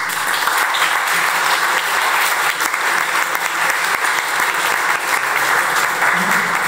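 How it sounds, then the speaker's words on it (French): At the city of Grenoble's sports awards ceremony, an audience gives sustained, dense applause to volunteers and the public, an even roar of clapping with no break. "Voilà, donc merci de les applaudir bien fort."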